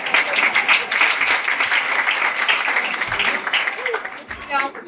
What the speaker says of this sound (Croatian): Do tad vi naravno plješćete